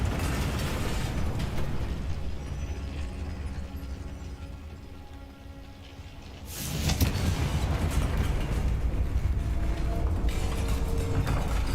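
In the Hogwarts Legacy video game, a Confringo spell erupts in a loud, sudden fiery blast midway through, after a quieter stretch of game noise, and leaves a dense rumbling wash behind it.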